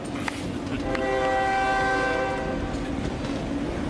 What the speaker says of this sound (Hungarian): Indul a vonat.